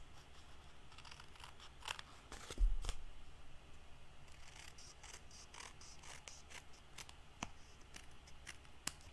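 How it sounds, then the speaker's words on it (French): Scissors trimming paper on a handmade card, a series of faint crisp snips and rustles, close and quiet, with one louder handling bump partway through. "Je viens l'enlever avec les ciseaux."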